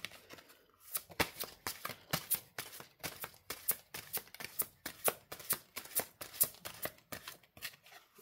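Tarot cards are shuffled and handled close up, giving a steady run of crisp, papery riffling snaps at a quick, slightly uneven rhythm for several seconds, with no speech over them.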